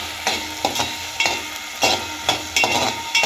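Onion, tomato, cashew, ginger and garlic are sautéed in a pan, with a spoon stirring and scraping in repeated rhythmic strokes over a steady sizzle, close and clear.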